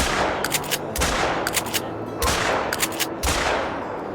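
Gunshots in a duck hunting video game ring out as loud, sharp reports in about four clustered volleys, each a quick run of cracks separated by short pauses, with no talk over them.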